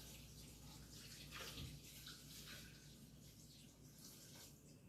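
Four cups of water pour into a cooking pot for ogbono soup in a home kitchen, a continuous soft splashing stream lasting several seconds, faint and close with no talk.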